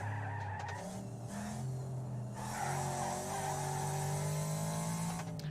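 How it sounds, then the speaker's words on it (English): Wreckfest racing game car with a new engine sound, drifting: a steady, loud engine drone with shifting pitch alongside continuous tire squeal and skidding, heard alone without talk. "So this is a new engine sound as well."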